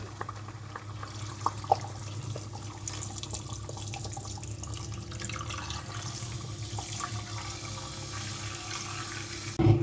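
Milk pours in a steady, soft liquid stream onto spiced chicken in a pan, close and continuous, with a brief louder splash at the end.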